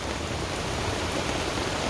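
Rain falls outdoors as a dense, even hiss, steady and fairly loud throughout with no voices.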